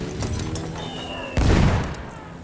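An artillery shell bursts with a loud, sudden boom in a First World War video game, a short crackle of distant gunfire before it and rumble fading after the impact.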